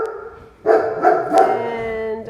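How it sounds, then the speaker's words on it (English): A dog barks three times in quick succession, fairly close, against a faint steady hum. "And I apologize for the dog barking."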